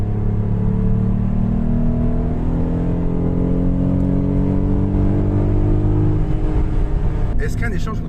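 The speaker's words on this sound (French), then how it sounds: "le V6 chante super bien" A Renault Clio V6 engine revs while driving, a loud rising rumbling growl with climbing pitch through the gears heard from inside the cabin, with a brief knock near the end.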